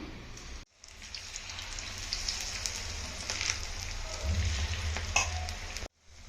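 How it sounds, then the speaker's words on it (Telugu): Cauliflower (gobi) pieces for Gobi 65 deep frying in hot oil, a steady close bubbling sizzle with crackling pops, continuous throughout with brief quiet gaps at the start and end. "ఇప్పుడైతే మనం డీప్ ఫ్రై కోసం అయితే ఆయిల్ పెట్టుకుందాం తర్వాత మనం కళ్ళు పెట్టుకున్న గోబీలు ఒక్కొక్కటిగా అయితే ఇందులో వేసుకున్నాం"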